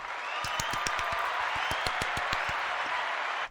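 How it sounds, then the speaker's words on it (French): A radio presenter claps for himself against a steady wash of crowd applause. His sharp, evenly spaced claps stand out close and regular before everything cuts off abruptly. "Alors là, je m'applaudis tout seul."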